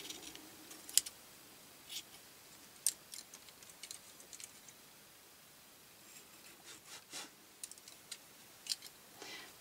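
Scissors make soft, sparse snips as they cut fluffy material for a snowman decoration, the quiet clicks spaced irregularly over a low hiss.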